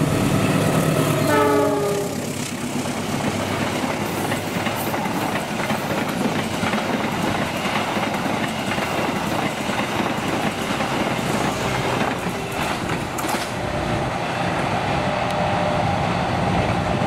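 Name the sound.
freight train passing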